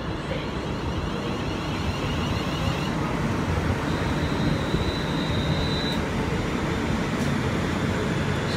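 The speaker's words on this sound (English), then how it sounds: "Coming into platform number 5 is the very late 15:15 London Midland service to London Euston only, class 350" A late-running London Midland class 350 electric multiple unit pulling into platform 5 at Milton Keynes Central, a steady loud rumble and rolling hiss with a faint high whine and brief squeal near the platform.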